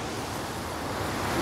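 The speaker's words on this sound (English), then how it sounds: "Still pouring down rain and outside." Heavy rain pours outside at night around abandoned condos in Bangkok, a dense, steady broadband hiss with no breaks, heard alone.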